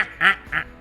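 A handheld duck call gives quick quacks, two or three short nasal blasts close to the microphone in under a second.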